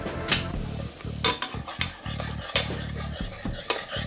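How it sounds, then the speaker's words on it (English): Onion with ginger garlic paste for aloo gosht, a meat and potato curry, cooking in a pan as a utensil stirs in repeated close scraping strokes, with a light sizzle and occasional clinks. "Mix all the 3 pastes together and I'm going to allow it to cook and brown"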